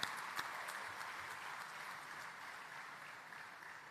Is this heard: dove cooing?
no